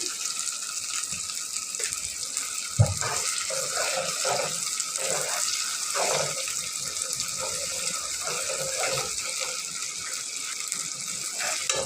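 Water is poured from a vessel into a chicken pulao (morog polao) mixture during cooking, making a steady, close splashing gush that runs the whole time, with one brief knock early on.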